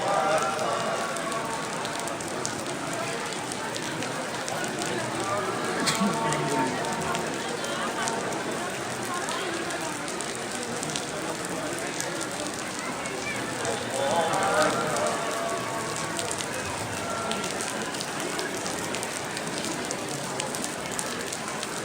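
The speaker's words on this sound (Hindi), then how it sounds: "दिन में बारिश हो रहा है" Steady rain falls during the daytime at the Ajmer Sharif Dargah, a continuous dense hiss with scattered patter and drips, with faint voices and crowd murmur running underneath throughout.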